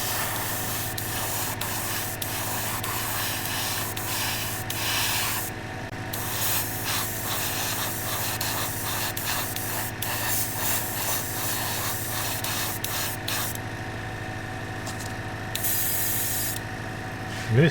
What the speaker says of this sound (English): And it's still spraying.